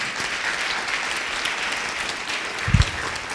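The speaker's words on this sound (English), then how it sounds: "I will ask for a round of applause for our 5 panelists" Sustained audience applause for five panelists at a Census 2020 community dialogue in Fairfax: a dense, even wash of many hands clapping, with a brief low thump near the end.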